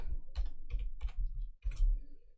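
Soft, fairly close keystrokes on a computer keyboard while entering code, in short irregular bursts of taps with brief pauses.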